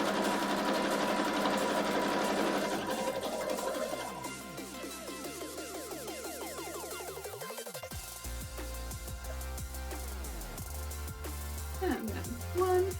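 Sewing machine stitching fabric for a cosplay wig, running in fast, even bursts of close mechanical chatter whose speed rises and falls before stopping briefly and starting again.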